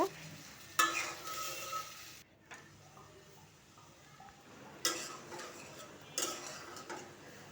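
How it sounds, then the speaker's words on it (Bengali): Sliced potatoes sizzle softly in a hot pan with a little salt and turmeric, with a steady quiet fry broken by a few louder scraping bursts of stirring. "এখন আলুগুলোকে ভেজে নেবো অল্প একটু লবণ আর হলুদের গুঁড়া দিয়ে দিলাম কিছুক্ষণ ভেজে নেব"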